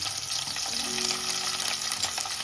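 Curry leaves, garlic and green chili hit hot oil in a pan for a prawn curry, producing a dense, steady sizzle with a sharp hiss throughout, close and loud with no break.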